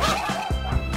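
A dog barks a few quick, close, rough woofs in a short burst at a small, cheap electric skateboard, loud over a background hum, with no talk.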